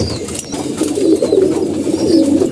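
Loft pigeons coo in low, burbling waves that swell louder toward the end, with faint high bird calls far in the background.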